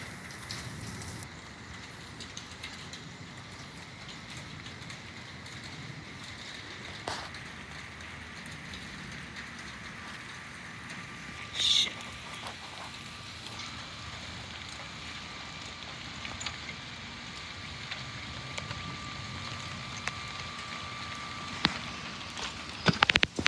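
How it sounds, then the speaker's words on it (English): Rain falls faintly and steadily during a rumbling thunderstorm, a soft continuous patter with a few louder drops or knocks scattered through. "drops of rain."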